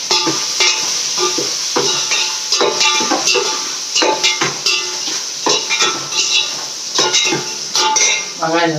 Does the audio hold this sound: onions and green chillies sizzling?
yes